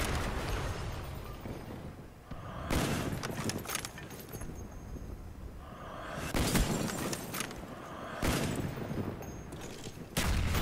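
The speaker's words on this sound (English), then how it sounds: "I do love shooting through windows." Rapid bursts of gunfire from Call of Duty Black Ops on the Berlin Wall map, firing through windows, arrive in several loud volleys separated by short pauses, with no talking.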